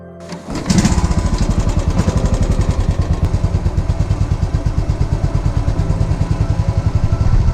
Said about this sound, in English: Let's fire up the bike.